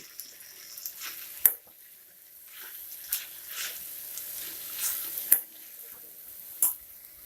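Cauliflower and capsicum with crushed peanuts are stirred in a pan. A spoon scrapes softly under a faint sizzle, with a few sharp clinks against the pan at irregular intervals.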